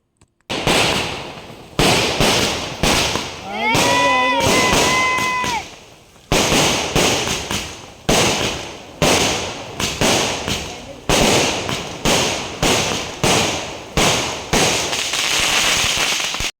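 Loud firework shells burst one after another in rapid booming cracks, with a brief rising whistle between blasts, close and echoing outdoors.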